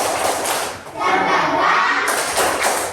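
A classroom group claps together during a teacher-led spirited cheer, a dense, steady burst of many hands sounding close and loud, with a brief dip before the clapping swells again, shouts mixed in.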